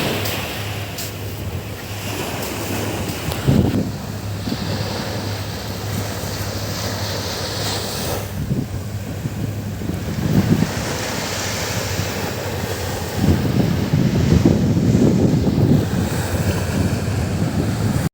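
Continuous surf on a public beach at East Coast Park in Singapore, a wide rushing wash with wind gusts hitting the microphone and a low hum, swelling louder toward the end.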